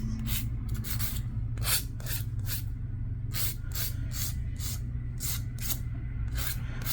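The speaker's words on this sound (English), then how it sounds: "I'm still filing, guys, so now I'm just buffing out the nail" Gel X nail being buffed with a nail file: rapid, repeated rasping strokes in short bursts, close and fairly quiet over a low steady background hum, with no talking.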